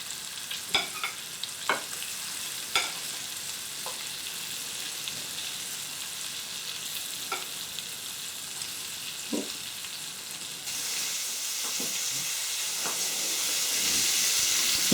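Lamb mince meatballs frying in a pan, a steady sizzling hiss with scattered pops and spatters, growing slightly louder near the end, close up and with no talking.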